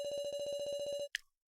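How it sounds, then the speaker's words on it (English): A phone rings with a rapid, buzzing electronic trill for about a second, then cuts off with a brief clatter before silence. "the phone was going off"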